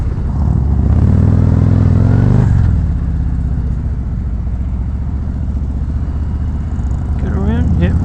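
A 2019 Harley-Davidson Road Glide Special being ridden sends out a loud, steady V-twin engine drone with wind noise. The engine swells during the first few seconds, then settles into a lower cruising hum while a rider talks over it.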